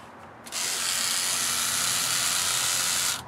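The magazine motor of a Drozd Blackbird BB gun, run at 21 volts, spins up abruptly into a loud, close, steady high-pitched electric whine that holds for nearly three seconds and then cuts off.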